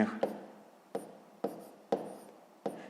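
A pen writing on paper during a sixth-grade math exercise, heard as close, quiet scratchy strokes falling in short bursts about every half second, each beginning with a light tap.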